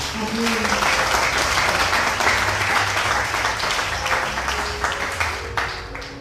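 A church congregation applauds during a prophetic message service, a dense, sustained wash of clapping with voices and cheers mixed in throughout.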